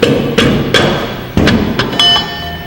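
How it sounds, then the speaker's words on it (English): Rubber mallet tapping a tight-fitting part off a DL501 wet dual clutch in a garage: about six sharp, close taps at irregular intervals, each a short thud with a brief ringing metallic tail. "we'll need the rubber mallet to kind of tap this off of here"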